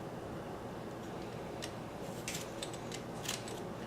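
A knife cuts the skin off a piece of produce, giving a few short, crisp snicks and clicks spaced irregularly over a soft background hiss, fairly faint and with no talking.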